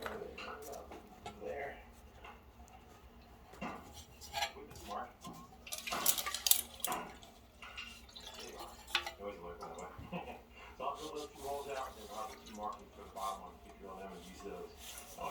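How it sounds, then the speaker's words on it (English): Liquid sloshes inside a 1945 Evinrude Zephyr outboard fuel tank as it is shaken, giving uneven metallic clunks and splashes in bursts, with a louder cluster midway and quieter rattling throughout. "I'm gonna shake it up some more"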